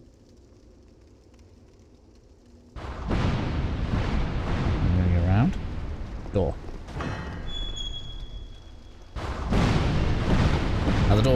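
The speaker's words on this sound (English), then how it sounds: "Let's let some explosions go off again." Explosions go off in the Dark Souls 2 game world, the Forest of Fallen Giants, as loud broadband bursts and rumbling booms that start abruptly and recur, with someone talking over them throughout.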